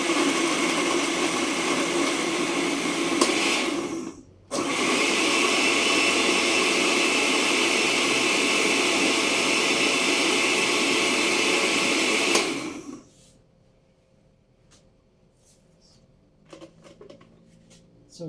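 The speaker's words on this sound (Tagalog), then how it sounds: "So, ato na siyang i-blend ang carrot." A kitchen blender purees carrots with fresh milk, roaring loudly and steadily, cutting out briefly then running again for several seconds before stopping; quiet handling noises follow.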